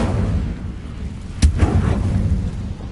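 Incendio, the fire spell in Hogwarts Legacy, bursts out as a single sharp, loud blast partway through, with a brief fiery roar trailing off over a continuous low game rumble.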